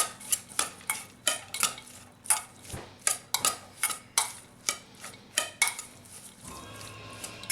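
Bass fillet taco filling being stirred and tossed with apple cider vinegar in a bowl or pan, with a steady series of sharp utensil clinks and scrapes, close and fairly loud, no talking.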